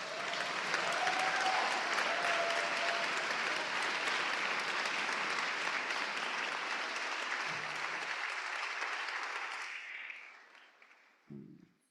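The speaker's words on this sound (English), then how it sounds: "Can we just give Jack another round of applause, please?" A crowd gathered at a memorial vigil claps warmly and steadily for about ten seconds before the applause fades out, followed by a brief low sound near the end.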